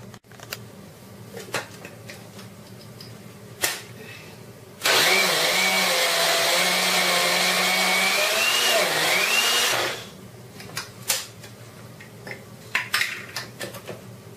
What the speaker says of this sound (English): Now we grind second batch, remaining of half of the rice.